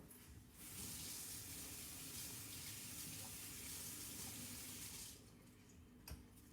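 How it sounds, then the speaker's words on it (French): Running tap water splashes steadily over Tupperware food processor blades being rinsed at a sink: a loud, continuous hiss for about four and a half seconds that then cuts off, with a small clink near the end. "on le passe sous l'eau. Il n'y a pas besoin voilà, de trop frotter"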